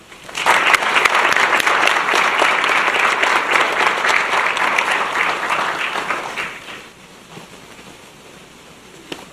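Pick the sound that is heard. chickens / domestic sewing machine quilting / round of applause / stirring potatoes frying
round of applause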